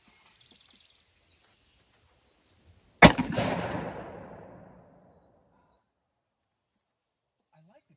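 A binary-trigger AR-15 pistol fired outdoors: one loud, sharp report with a rapid follow-up crack, then a long echoing decay, after a quiet lead-in.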